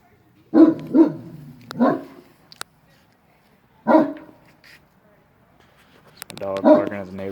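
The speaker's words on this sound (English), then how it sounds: "Dog barking at the neighbor." A dog barks at a neighbor in several loud, close bursts: three quick barks, a pause, another single bark, then a harsher run of barking at the end, with quiet gaps between.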